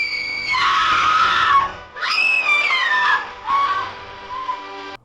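A woman screams in several long, piercing, wavering bursts, loud and close, with brief breaks for breath between them.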